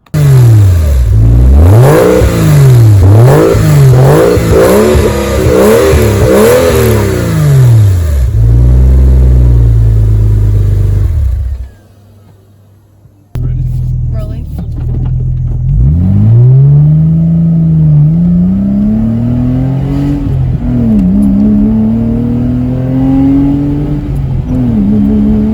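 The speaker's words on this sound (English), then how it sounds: "That exhaust note is what a sports car should sound like." A 1998 Porsche Boxster 986 with an upgraded exhaust revs repeatedly at close range, rising and falling blips, then a brief near-silent pause before a long climbing acceleration and further revs.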